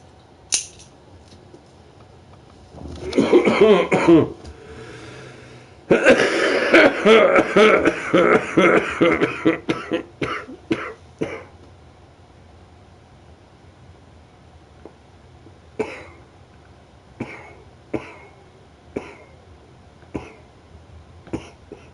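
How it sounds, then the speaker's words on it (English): A person coughs in two harsh fits, then scattered short coughs and throat-clearing sounds follow at intervals in a quiet room. "I like the way I stop coughing real quick"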